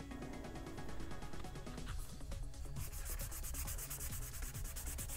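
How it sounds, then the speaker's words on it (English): Fine sandpaper rubs over a urethane layer of Boba Fett armor in a steady, close scratching stroke, with a quicker, brighter rhythmic rasp toward the end. "if you want to get that into a smooth area, you want to go with a finer sandpaper"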